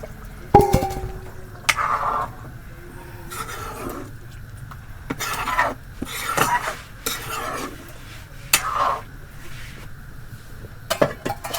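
A spoon scrapes and clanks against a metal pot of broiler chicken curry on a clay stove in irregular bursts, with thick food being stirred between the knocks.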